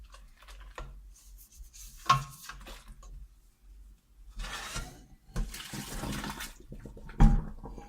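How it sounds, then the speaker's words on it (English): A pan is scrubbed out under water, with intermittent splashing, sloshing and scraping in bursts, close and moderately loud, separated by quieter gaps. "Then scrub out your pan."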